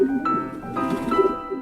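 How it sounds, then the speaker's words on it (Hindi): Soft, low cooing of pigeons, a few rounded calls close by over a gentle background hum. "सैकड़ों कबूतर गुटरगूं करते"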